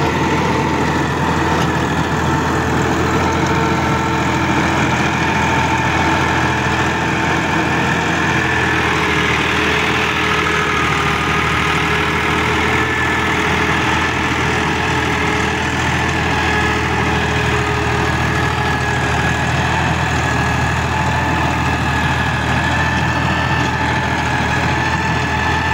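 A Massey Ferguson 260 Special Edition tractor with a 48-blade rotavator runs in first low gear, its diesel engine giving a loud, steady, unbroken drone with a constant hum throughout and no talking.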